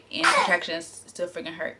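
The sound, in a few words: baby sneezing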